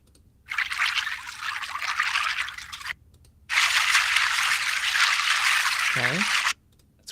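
Small water-surface sound effect from a multitrack physics sound library: two sustained bursts of trickling, pouring water, loud and close, separated by short silences, with a brief tonal squeak near the end.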